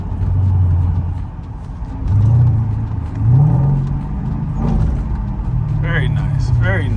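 A 2009 Mercedes-Benz SL550 engine revs up and settles several times in a row, close by, with people talking over it.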